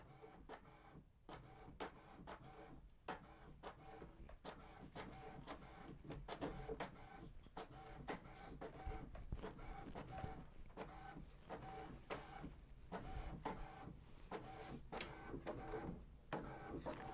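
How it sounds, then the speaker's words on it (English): An HP ENVY 6052 inkjet printer runs a page through, with steady mechanical whirring and repeated clicks and carriage clatters near and moderately loud for the full length, with no voices. "it's printing."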